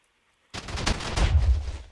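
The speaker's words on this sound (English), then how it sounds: "let me just cannon through all these walls, make an L in all of them" Video game cannon fire blasting through base walls during a raid: after half a second of quiet, a loud burst of rapid, booming impacts follows, rumbling continuously until the end, with no talk.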